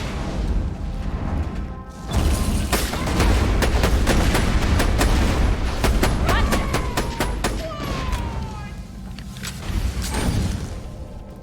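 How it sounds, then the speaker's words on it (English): Borderlands: The Pre-Sequel combat, with a rocket launcher and guns firing in a loud, nonstop barrage of sharp cracks, booms and rapid bursts, close and dense, with a brief lull near the start. "That man has a rocket launcher."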